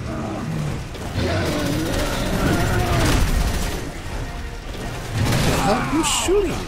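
Gunfire in the Resident Evil 6 video game, a muffled spatter of shots and crashes within a loud, dense game soundscape, with voices talking over it.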